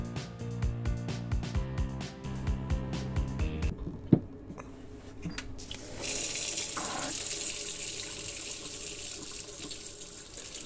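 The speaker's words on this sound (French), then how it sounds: "on vide un peu les tuyaux, ça évite les problèmes même quand on a fermé l'eau" Water draining from emptied pipes under a sink during faucet removal, with the supply shut off: a steady rushing, splashing flow that follows earlier rhythmic knocking and a single sharp clunk, close and fairly loud.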